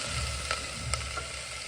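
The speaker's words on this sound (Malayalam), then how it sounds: "ഒനിയൻ നന്നായിട്ട് ബ്രൗൺ കളറാകുന്നവരെ മൂപ്പിച്ചെടുക്കുക." Sliced onions frying in a pan for egg biriyani, a steady close sizzle with a few soft stirring clicks, no talking.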